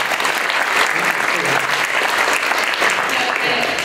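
An audience at a development-policy book event applauds the authors, a loud, close, continuous round of clapping lasting the whole stretch without a break.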